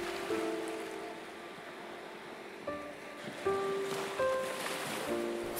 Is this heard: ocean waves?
yes